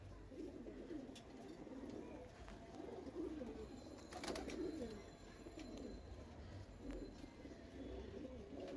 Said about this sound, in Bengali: দেখেন কত সুন্দর একটা খাকি কবুতর, ঠিক আছে, খাকি কবুতর দেখছেন।